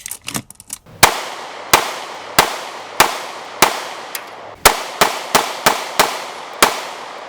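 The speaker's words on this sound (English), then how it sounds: "there's definitely not any difference when shooting with the VP9sk with the push button or the paddle release" An HK VP9sk pistol fires at a range, about a dozen sharp, loud shots in an uneven series with short echoing decays, some spaced and some in quick pairs, preceded by faint handling clicks.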